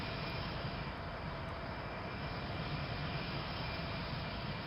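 Lockheed T-33 Shooting Star jet engine in Flight Simulator X, a steady broadband roar that holds constant and alone throughout, moderately loud.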